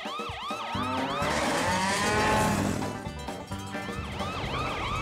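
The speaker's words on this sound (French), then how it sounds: "mets la sirène en marche." A cartoon emergency vehicle's siren switches on and wails in repeated rising and falling sweeps, loud and close over engine rumble and cartoon sound effects, with no talking.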